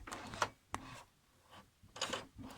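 A sewing machine finishes a topstitch, giving several short mechanical bursts of stitching separated by brief pauses, quiet and close by.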